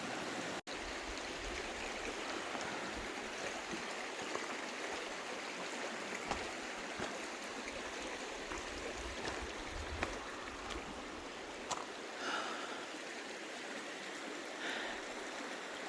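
Rushing stream rapids at a river crossing on a canyon hike, a steady, loud, close wash of turbulent water that runs unbroken throughout with only faint splashes and knocks above it.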